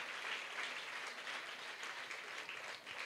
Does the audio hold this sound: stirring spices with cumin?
no